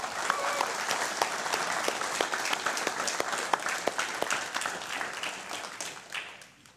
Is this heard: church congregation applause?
yes